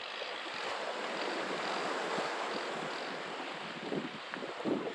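Waves wash steadily onto the beach at Agia Pelagia in Crete, a continuous broadband surf roar with wind buffeting the microphone, fairly soft and without voices.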